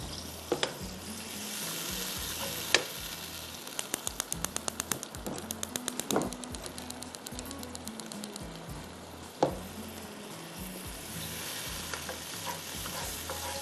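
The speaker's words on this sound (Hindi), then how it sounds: "उसको आप थोड़ा भूनेंगे।" Masala roasting in a pan for a creamy methi chicken dish: a steady close sizzle with repeated stirring scrapes and sharp utensil taps against the pan, no voices.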